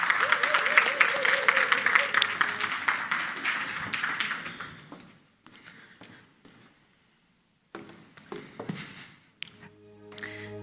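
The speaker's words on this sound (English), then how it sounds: "Please give her a round of applause." Conference audience applauding a speaker as she is introduced at a business empowerment event, dense clapping for about five seconds that thins into scattered claps, a pause, then a few taps and shuffles.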